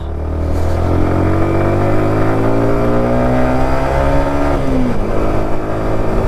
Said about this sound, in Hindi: भाई बाइक ऊपर नहीं जा पा रही है यार